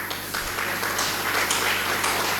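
An audience at a Socrates Dialogue session event claps for a guest being introduced, a steady patter of hands in a room at moderate volume, with no speech over it.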